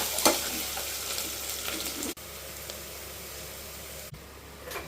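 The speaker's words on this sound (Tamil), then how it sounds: "அது பச்சை வாசனை போகிற அளவுக்கு நல்லா வறுத்து எடுத்துக்கலாம்." Ginger garlic paste fries in a pan for a pressure cooker chicken biryani, a close, steady sizzling hiss with a few stirring scrapes.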